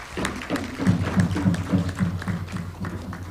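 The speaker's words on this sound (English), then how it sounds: "I believe His Excellency the President deserves another round of applause" Applause ripples through a crowd at a courtesy call on the President of Ghana, steady close clapping with uneven thumps lasting throughout, with faint voices mixed in.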